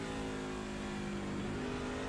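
Race truck engines rev loudly and continuously in an iRacing SRM Truck Series race at Sonoma Raceway, a sustained droning, slightly wavering roar with no talk over it.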